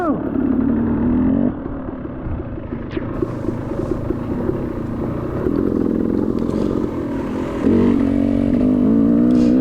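A KTM dirt bike engine revs and labours through a muddy hare scramble race, loud and close from the rider's position, with a steady throttle drone, brief shifts in pitch and a mechanical clatter.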